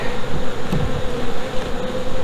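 Bees swarm around open beehives on a farm, a dense, loud, continuous buzzing close to the microphone with a steady drone throughout.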